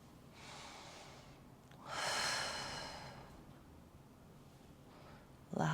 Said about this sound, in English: Exhale for 4.